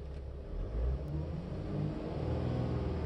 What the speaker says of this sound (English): keep the engine RPM at 2500 RPM